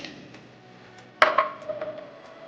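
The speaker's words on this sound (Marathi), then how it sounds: "तर आपण आता या मिक्सरच्या भांड्यामध्ये इथे कट केलेले स्ट्रॉबेरी" Cut strawberries drop into a mixer jar in one sudden clattering knock partway through, with a brief ringing rattle of the jar afterward before the room goes quiet again.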